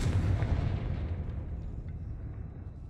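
A Confringo spell blast in the Hogwarts Legacy video game, a heavy booming explosion that opens loud and slowly fades into a rumbling decay with no voices over it.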